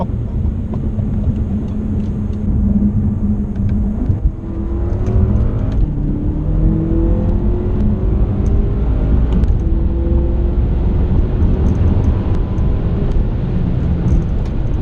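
A BMW F10 M5 fitted with an Akrapovic exhaust drives continuously, its deep exhaust rumble rising and falling through several revving gear changes, loud and close for the whole stretch with no talking.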